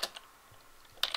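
Keys clack on a computer keyboard while a command is typed during Minecraft play: a quick pair of taps, a pause, then a denser burst of clicks near the end, close and crisp.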